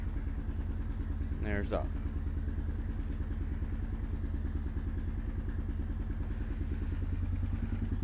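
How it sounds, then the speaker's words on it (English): A Honda Foreman ATV engine idles steadily and close by while its Cycle Country snow plow is raised. Someone speaks briefly over the constant low engine drone. "Let's go ahead and start the four-wheeler up so you'll see when it's running."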